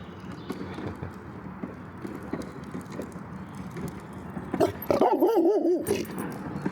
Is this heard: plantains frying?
no